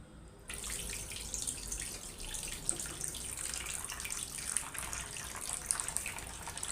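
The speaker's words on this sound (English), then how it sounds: "You see the distance to which water comes out and falls." Water streams steadily out of holes in the side of a container in a water-pressure experiment, a continuous close splashing and trickling like a running tap that holds steady throughout.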